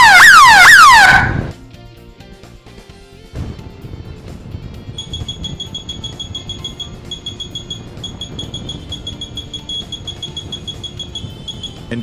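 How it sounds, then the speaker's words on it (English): A very loud siren-like alarm wails from a long-range alarm system receiver for about a second, then stops, leaving faint steady electronic tones and beeps over low background noise. "eventually a very loud alarm"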